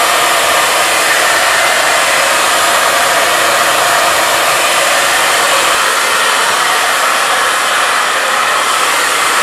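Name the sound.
blow dryer drying hair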